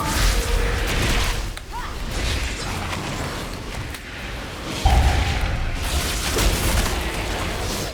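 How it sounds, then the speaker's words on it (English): A big area-of-effect explosion in World of Warcraft: The War Within, a dense, loud booming surge with mechanical creaks and whooshes amid constant game noise and combat effects. "There's the big AoE explosion."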